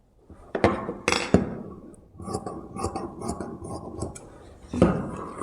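Scissors cut through blouse lining fabric in a series of close, crisp snips and sharp clicks, spaced irregularly with soft rustling of cloth in between.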